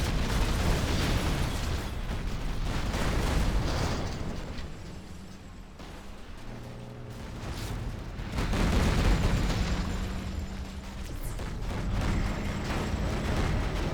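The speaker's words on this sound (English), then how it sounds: "Carpet bomb coming in for ExCaL" Carpet-bomb explosions in a tank strategy video game roll in as a continuous series of booming bursts and rumbles, swelling, easing in the middle, then rising again.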